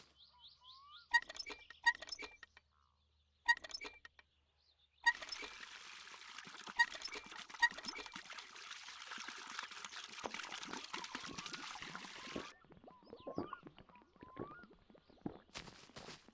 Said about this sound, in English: we can get a drink of water